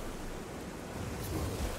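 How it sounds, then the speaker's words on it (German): Rushing water from a waterfall in the video game Guild Wars 2, a steady, dense broadband wash that swells slightly toward the end, with no voices over it. "Ich komme nicht durch den Wasserfall."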